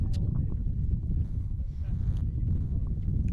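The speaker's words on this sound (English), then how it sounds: "Quite a windy day." Strong wind buffets the microphone outdoors on a sunny day at a desert polo ground during the Emirates Polo Championship, a constant low rumble throughout with faint crowd and hoof-like sounds in the background.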